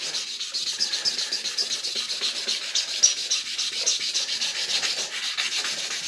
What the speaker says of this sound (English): That is going to be the oxidation that you are sanding away.